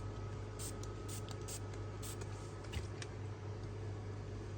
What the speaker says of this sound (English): So now I just make sure I spray my socks